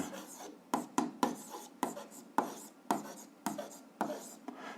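Pen or chalk writing an algebra equation by hand, a series of short scratchy strokes in irregular bursts with brief pauses, close and fairly loud, heard alone.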